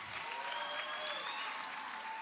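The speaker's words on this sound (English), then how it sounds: "Let's keep clapping for them." An audience applauding a panel session at a girl child summit keeps up continuous, moderately distant clapping, with some faint voices mixed in.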